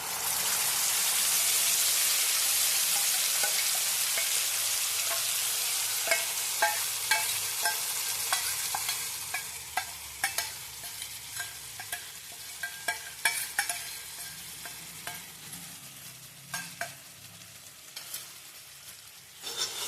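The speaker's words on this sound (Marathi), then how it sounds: "बारीक गॅस करून ते मसाले तेल सुटेपर्यंत असे भाजायचे" Mixed spices roasting in oil over a low flame for spicy chana chaat, starting as a loud, dense sizzle that gradually softens, broken by frequent scraping stirs of a spoon in the pan.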